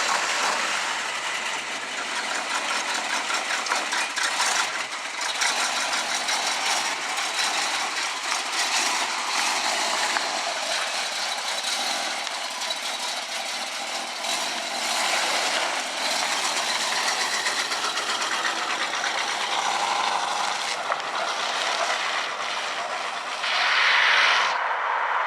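A 1976 Pontiac Firebird Formula engine running steadily as the car drives off, a continuous rough, rattling mechanical drone that holds for the whole stretch with a brief swell near the end, and no talking.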